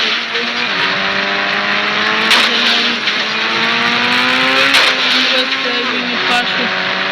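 A car engine in the mobile game Indian Bike Driving 3D drones and revs steadily, with pitch rising and falling through gear-like sweeps as the car reverses, loud and close while someone talks over it.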